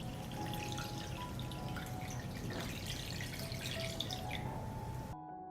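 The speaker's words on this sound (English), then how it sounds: "I pour water up to the height of the lid." Water pours steadily into a cooking pot holding glass jars set on a cloth for pasteurizing preserved strawberries, cherries and blueberries, a continuous close splashing stream that stops abruptly near the end.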